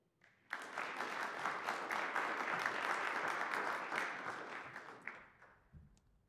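An audience at a Business Finland partnership launch event breaks into sudden applause, a steady, full burst of clapping that holds for about four seconds and then tapers off, with a voice briefly speaking at the end.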